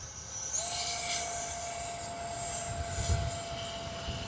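An electric RC L-39 Albatros model jet with a 50mm ducted fan flies overhead under a cloudy sky, giving a continuous high whine with a steady tone that shifts slightly as it passes, moderately distant.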